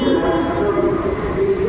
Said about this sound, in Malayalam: ഇതേ ഗൈസ്, അവിടുന്ന് മെട്രോ വരുന്നുണ്ട്.